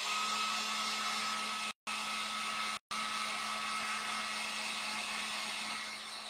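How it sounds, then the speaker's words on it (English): A heat gun blows a steady, loud whooshing hum while drying a craft project, cutting out twice briefly before running on alone. "I'm going to go ahead and use my heat gun and dry this"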